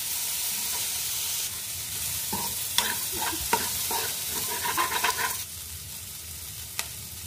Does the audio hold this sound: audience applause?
no